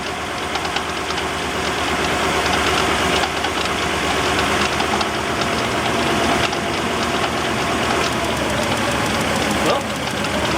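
A 1991 Nissan Pathfinder engine idles close by with an uneven, knocking rhythm from a misfire in cylinder number 2, running continuously and loudly throughout.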